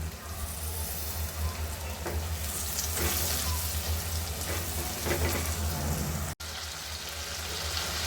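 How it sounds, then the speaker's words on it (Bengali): Dried mola fish curry with a whole head of garlic sautés in a pan, a steady moderate sizzle with occasional stirring scrapes and a brief dropout near the end. "শুটকি তরকারি কষানো হয়ে গেছে"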